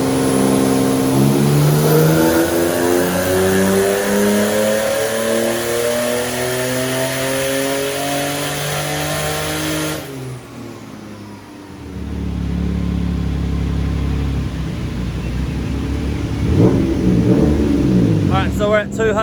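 A turbocharged M52 engine in a BMW E36 revs hard on a dyno, climbing steadily through the gears in a loud, rising wail before dropping off. It then settles into lower rumbling pulls and revs, with a voice briefly audible near the end.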